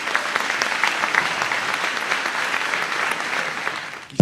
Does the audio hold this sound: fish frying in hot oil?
no